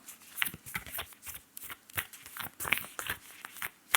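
Tarot cards shuffled close up in quick riffling bursts, a run of crisp papery slaps and flutters with brief pauses between, soft and intimate.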